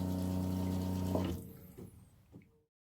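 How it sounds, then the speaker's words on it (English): Water poured from a container into a cooking pot holding chopped leeks, onions and potato for soup, a steady loud gushing pour lasting over a second that then thins into trickles and drips before stopping. "I just want to add enough water just to cover the leeks and onions and potato."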